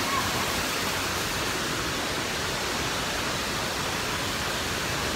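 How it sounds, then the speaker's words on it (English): Water rushing steadily along an indoor water park lazy river, a dense, even wash of flowing water filling the space with no breaks, fairly loud and constant throughout. "There's the lazy river right here."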